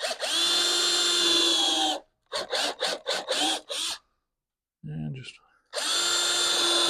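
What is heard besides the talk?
power drill driving screws into fence picket wood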